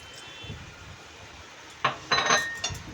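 A spoon stirs chicken rezala with yogurt, rose water and kewra water in a metal pot, producing a quiet bed of noise and then several bright clinks and scrapes against the pot.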